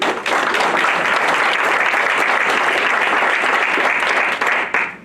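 An audience claps together in a hall at a talk on Bangladesh, a dense, loud burst of applause that starts sharply, holds steady for several seconds, then tapers near the end.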